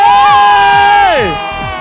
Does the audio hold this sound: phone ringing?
no